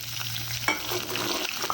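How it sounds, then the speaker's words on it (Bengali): Green chilies and onion drop into hot oil with cumin in a wok, triggering a sudden louder sizzle and stirring scrape partway through, a close, steady frying hiss. "জিরা ভাজা হয়েছে এখন দিয়ে দেবো কাঁচামরিচ আর পেঁয়াজ"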